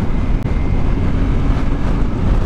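Heavy wind buffeting roars across the microphone while riding a Yamaha Tenere 700 on a motorway, a loud, continuous low rumble that masks all else, with one brief dropout near the start.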